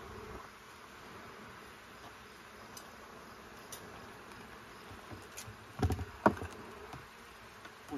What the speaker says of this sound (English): See a lot of pollen on the bees coming in today.